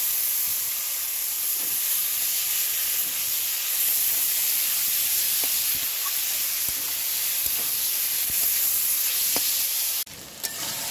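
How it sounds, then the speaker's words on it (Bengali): Elephant foot yam stalks hit a pan of fried spice paste, raising a loud continuous hissing sizzle with faint stirring clicks, close and steady before cutting off abruptly near the end, without talk. "মশলাটা আমার কষানো হয়ে গেছে, এবার আমি ওলের ডাঁটাগুলো এর মধ্যে দিয়ে দিচ্ছি।"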